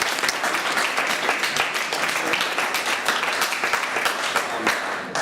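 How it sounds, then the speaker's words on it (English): An audience at a culinary entrepreneur talk bursts into sustained applause, many hands clapping in a dense, even roar with individual sharp claps standing out, lasting several seconds without speech. "let's give him a round of applause."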